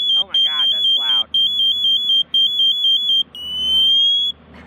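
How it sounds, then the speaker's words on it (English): A firefighter-down extended alarm sounds loudly and close, a piercing high tone pulsing in rapid, regular on-off bursts and then rising into a continuous shriek, while a person talks over it. "an extended alarm will go off. And if we're in a real situation where a firefighter's down, you'll know that noise"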